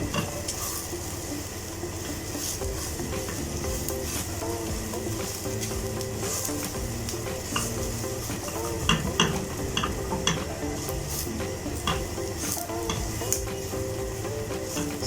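Okra pieces frying in oil in a pan, a steady close sizzle with repeated scraping and clattering as a spatula stirs them, continuous throughout.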